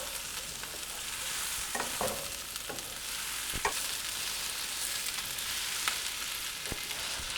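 Cauliflower frying with garlic in a pan over medium heat makes a steady, soft sizzle, with occasional light scrapes and clicks of stirring spread through it and no talk.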